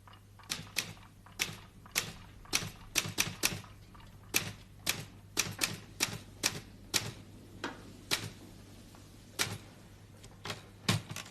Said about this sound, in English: This machine makes a noise too. Do you know what it's called? It's called a typewriter.